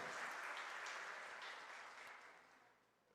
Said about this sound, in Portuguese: Você pode aplaudir a Deus